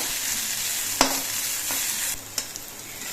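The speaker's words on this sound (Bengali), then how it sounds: "পেঁয়াজগুলো একেবারে ভাজা হয়ে গেছে আর ডাটাগুলো কিন্তু পেঁয়াজ ফুলে যেমন ভাজা হয় সেরকম ভাজা হয়ে গেছে" Onions and vegetable stalks fry over a low flame in a pan, giving a steady close sizzle with a few sharp stirring scrapes and clicks; no voices.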